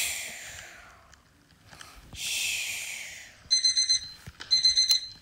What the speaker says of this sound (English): Let's just make a fake beep